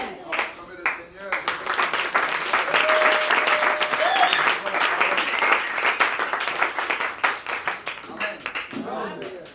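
A church congregation applauds and cheers loudly and steadily for several seconds, with voices shouting over the dense clapping before it thins out at the end.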